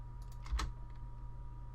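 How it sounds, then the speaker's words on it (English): Typing effect on a video editor title: a short burst of a few keyboard clicks, close and light, over a faint steady hum. "They can add a little typing effect"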